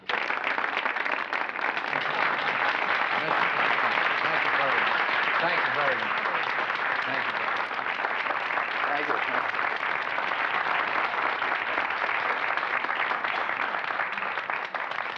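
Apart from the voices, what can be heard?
audience applause for the lieutenant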